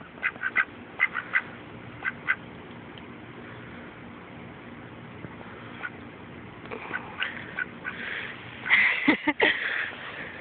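A pet duck, a female, gives a string of short nasal quacks, scattered at first and then a louder, busier burst near the end, close and alone without talking.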